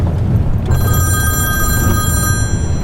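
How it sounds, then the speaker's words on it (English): A telephone bell rings steadily through a tense film scene set inside a car, its bright, sustained tone carrying over a low rumbling background for most of the moment. "Moments later, Anna's phone rings, and the tension in the car suggests it's her lover on the other end"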